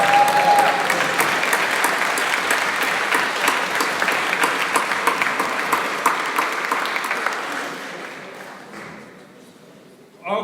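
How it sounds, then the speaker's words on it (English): Audience at a hackathon final demo event claps in a sustained, dense round of applause, loud at first and gradually thinning and fading out near the end. "Can we give all of our sponsors a huge round of applause?"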